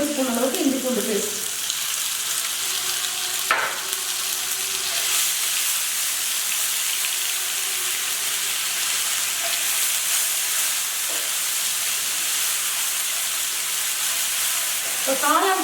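Ginger garlic paste sizzles steadily in hot oil that was already used for frying mushrooms. The loud, even hiss runs continuously, with a few brief stirring knocks along the way.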